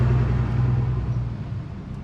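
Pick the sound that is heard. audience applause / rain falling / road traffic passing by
road traffic passing by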